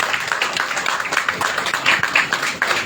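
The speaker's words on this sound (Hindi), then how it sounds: "एक बार जोरदार तालियां अध्यक्ष जी के लिए" A crowd at a party event applauds its president, dense steady clapping with scattered louder claps, moderately close and continuing throughout.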